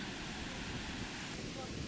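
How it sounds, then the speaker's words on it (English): Ocean waves break and wash along the shore at Mazatlan, a steady broadband roar filling the whole stretch with no distinct individual crashes, close and fairly loud. "Look at the waves. Isn't that cool?"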